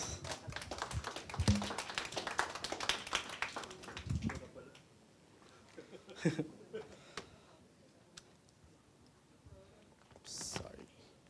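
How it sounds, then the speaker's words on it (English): An audience at a tech conference talk on Progressive Web Apps breaks into applause, with a dense burst of clapping over the first four seconds that cuts off into quieter room noise and scattered handling sounds. "So let us give a round of applause to Mr. Richard Gonzalez."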